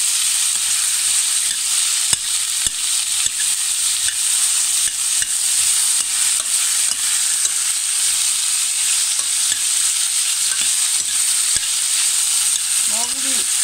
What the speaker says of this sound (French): vous les remuez bien, de façon à bien imprégner l'huile d'olive